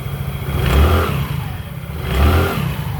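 Easyride 150 Fi motorcycle with a dragging fault, its engine revving up twice in close, loud surges that fall back to a rough, clattering idle between them, with no talk.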